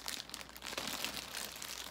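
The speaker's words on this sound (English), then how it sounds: "So I'm opening this bag?" A plastic bag being opened, giving steady close crinkling and rustling throughout with no talk.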